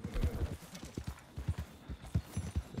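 Horse hooves clip-clop in Red Dead Online, a steady, close rhythmic patter of hoofbeats at a walking-to-trotting pace, fairly quiet and heard alone.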